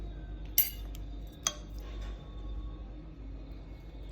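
A utensil stirring salt and flour together in a bowl for square crispy pizza dough, giving a couple of sharp metallic clinks over a faint, steady background hush.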